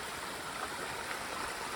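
A steady, continuous rush of flowing stream water, even and unbroken, with no voices, at a crossing on the Appalachian Trail.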